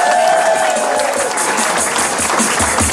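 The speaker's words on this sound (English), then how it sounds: "please give a big round of applause to Mr." Comedy club audience applauding and cheering as comedian Dan McCarthy is introduced, with a dense, steady wash of clapping that continues for the full three seconds.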